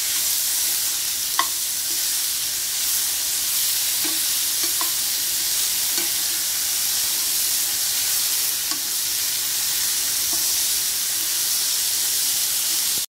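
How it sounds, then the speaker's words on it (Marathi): Finely chopped tomatoes frying in a pan with coriander, a steady bright sizzle and hiss broken by a few soft stirring taps, close and continuous. "बारीक चिरलेला टोमॅटो चांगला परतून घेऊया।"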